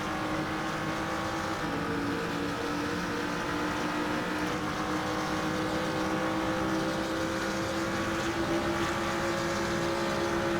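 BMW GT3 race car engine at Mugello in Assetto Corsa, a sustained high-revving drone held near the top of its range, steady and loud with no breaks.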